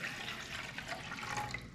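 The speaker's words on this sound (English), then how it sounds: "So pour in your vinegar" Vinegar pours steadily into the water reservoir of a Keurig K-Latte coffee maker, a soft continuous gurgling stream heard up close.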